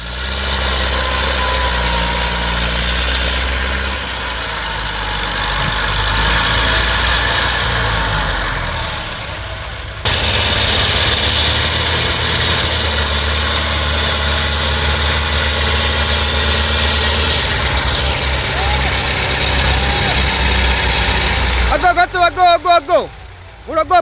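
A Massey Ferguson MF 265 tractor, stuck, idles with a loud, steady, close diesel rumble that dips briefly and surges back, ending in a few rough stuttering pulses. Voices speak over the engine.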